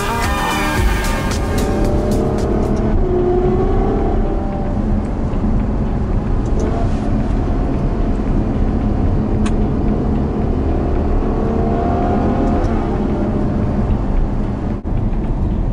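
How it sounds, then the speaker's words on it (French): A Ferrari GTC4 Lusso with its V12 engine driving on the road, recorded from inside or close by, with a steady loud roar and broadband road and wind rumble throughout. "quand on a les clés d'une GTC4 Lusso V12 qui plus est en main, on n'a pas trop envie de traîner, on a surtout envie de rouler"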